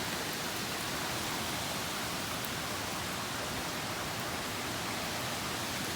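Steady rain falls outdoors on a cold day, a dense, even hiss that holds unchanged at moderate level with no voices over it.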